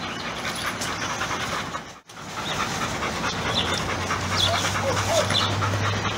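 Three dogs panting close by, with soft whimpers and rapid breathing that run throughout, while people talk nearby.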